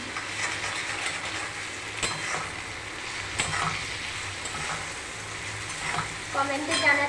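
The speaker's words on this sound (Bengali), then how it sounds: "এবার একটু ভালো করে নেড়ে নেব।" Oats khichuri being stirred in a frying pan with salt, chili powder and a little turmeric, a steady sizzle under scraping spoon strokes and occasional clinks, moderately close and continuous.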